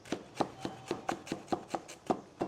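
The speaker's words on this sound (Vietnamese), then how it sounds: "Gừng thì mình sẽ băm nhuyễn như thế này." Ginger minced with a knife on a cutting board, about ten quick, evenly spaced chops in a steady rhythm, close and fairly soft with no talking.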